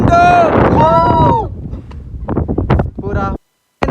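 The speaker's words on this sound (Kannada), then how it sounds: "ಪೂರಾ ಏನೋ ಗಾಳಿ, ಇಲ್ಲಿ ತಡಿಲಿಕ್ಕೆ ಆಗ್ತಿಲ್ಲ" Strong hilltop wind on the way to Z Point near Chikmagalur buffets the microphone with a low roar while people talk and laugh over it, then cuts off abruptly.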